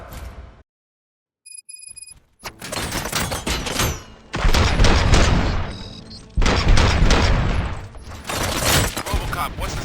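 Gunfire in the RoboCop: Rogue City video game, a near silence broken by dense bursts of loud rapid shots and booming impacts that come in waves, with brief lulls between the volleys.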